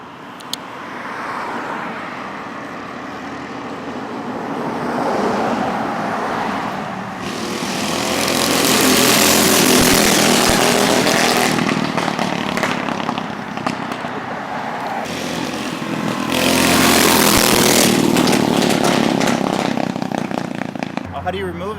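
A 600+whp H22-powered Honda Civic engine on the street rises in two loud revving surges that swell and fade, with people talking over the steady background roar.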